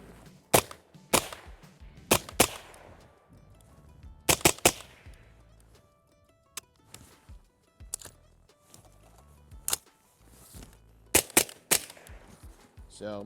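A Radian Model 1 AR15 rifle fires in sharp, loud, closely spaced cracks, often in pairs or short strings, separated by brief quiet gaps and light handling noise.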